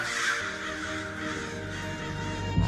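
Crows caw repeatedly at a moderate distance, harsh calls overlapping against a steady outdoor background.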